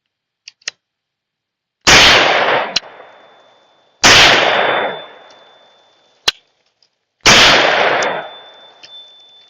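Three loud, close rifle shots from a Barrett REC7 fired at pineapple cans, each a sharp blast with a long ringing decay, about two seconds apart, a faint metallic ping after the first two, no voices.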